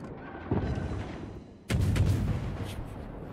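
Heavy naval gunfire from enemy ships pounding a destroyer in World of Warships, a booming low volley near 0.5 s and a louder, sustained barrage of blasts from about 1.7 s onward, with rumbling continuing to the end.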